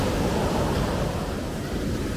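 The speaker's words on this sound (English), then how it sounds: "And this is the sea. I'm walking on black sand, and the waves have splashed me." Sea waves washing onto a black sand beach on Madeira, a dense, steady roar of surf close by, with some wind buffeting the microphone and no voices.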